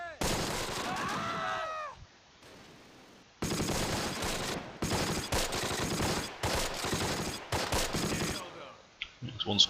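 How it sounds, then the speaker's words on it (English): A .50 cal machine gun firing in the wargame Close Combat, with long, dense bursts of rapid gunfire broken by short pauses and layered with other battle noise. "Sounds like our 50 cal just picked up a kill"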